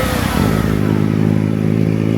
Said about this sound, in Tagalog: Ngayon nga lang ako nakakita ng big bike na may 3 gulong tapos mabagal pa ang takbo.